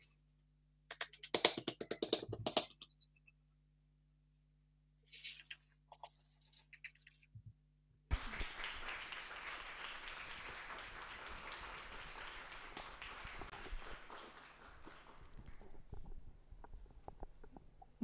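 An audience at an academic book presentation breaks into loud, sustained applause after a few quieter sounds, with dense clapping that fills the room for about ten seconds and then slowly thins.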